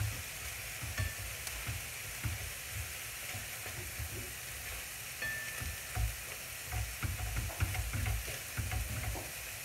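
Ground beef and green vegetables fry in a dry pan with no oil or butter, giving a steady close sizzle and crackle with occasional stirring scrapes and no voices.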